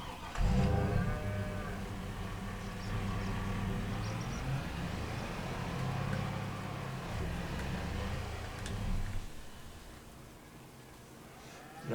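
Cows in a farming video game moo repeatedly as several drawn-out, fairly close calls over a steady background of ambient game noise.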